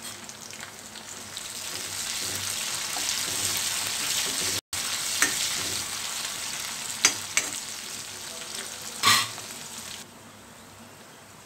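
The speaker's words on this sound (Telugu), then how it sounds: "ఇప్పుడు కల్యమాకు యాడ్ చేసుకుందాం" Curry leaves fry in hot oil in a pan, giving a loud, steady sizzle and crackle that runs almost the whole time with a few sharp pops, and there is no talking.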